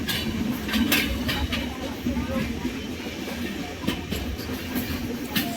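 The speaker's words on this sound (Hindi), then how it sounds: "शायद लगता है वो ट्रेन है।" The Taj Express train rumbles along the Jhansi line, a steady rolling drone with sharp periodic clacks and clinks of the wheels over rail joints. Voices murmur faintly underneath.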